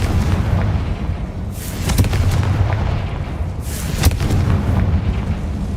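Confringo spell blasts in Hogwarts Legacy land as two sharp cracking explosions a couple of seconds apart, each with a booming rumble, over constant low background noise.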